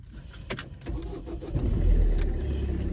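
A car engine cranks and turns over inside a vehicle, preceded by a jingle of keys, then settles into a low, steady idle rumble that fills the cabin.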